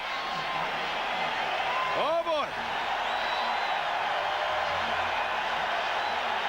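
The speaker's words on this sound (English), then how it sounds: "listen to the crowd here at Eden Park as the Kiwis come out" A large stadium crowd roars continuously at Eden Park in Auckland as the New Zealand Kiwis rugby league team runs out for the 1988 World Cup Final against Australia, a broad sustained din under a commentator's voice.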